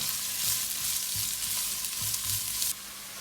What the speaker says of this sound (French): le but de jeu, c'est de faire bien dorer les oignons pendant plusieurs minutes